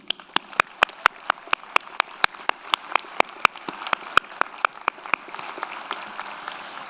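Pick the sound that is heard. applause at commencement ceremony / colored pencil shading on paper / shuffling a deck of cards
applause at commencement ceremony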